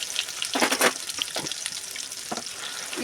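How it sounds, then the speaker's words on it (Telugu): Ginger and garlic frying in chicken oil give off a close, crackling sizzle with a few louder bursts of spattering and stirring, no voices heard. "ఈ చికెన్ వేపు నూనెలోనే ఇంకా అల్లం వెల్లుల్లి కూడా వేయించుకోవాలి"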